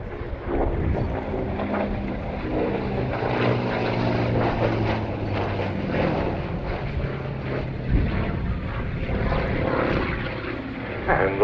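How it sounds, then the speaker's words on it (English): A P-47D Thunderbolt piston-engine fighter flies at a Duxford Battle of Britain airshow, its loud, steady propeller drone continuing throughout with a slight swell near the end. "and landing underneath Dave Pulliston after a typically stylish show with the P-47."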